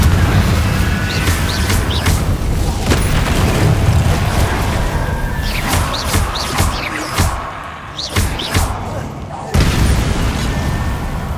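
The Confringo fire spell explodes in Hogwarts Legacy, a loud, dense rumble of booms and crackling blasts running throughout, with voices heard over the din.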